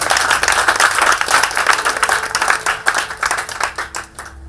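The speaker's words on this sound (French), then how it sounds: "Si tu es d'accord, acclame très fort le Seigneur Jésus." A church congregation claps and cheers loudly for Jesus, a dense, sustained wave of applause with shouts mixed in that tapers off toward the end.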